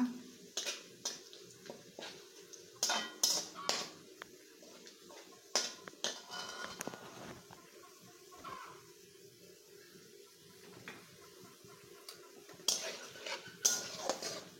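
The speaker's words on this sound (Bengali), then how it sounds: "এখন আমি এটাকে সুন্দর করে একদম ব্রাউন কালার করে ভেজে নেব।" Chicken curry masala with whole cumin being stirred and fried in a pan, with sporadic clinks and scrapes of a spoon against metal over a faint sizzle, close and fairly quiet, with occasional talk.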